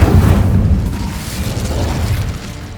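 Incendio fire spell cast in the Hogwarts Legacy video game, a loud burst with a low rumbling boom that sustains and slowly fades over a few seconds.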